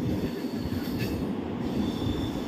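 The Vaigai Express train rolls into Chengalpattu railway station in India, a continuous loud rumble of wheels on track with high squealing, recorded from on board.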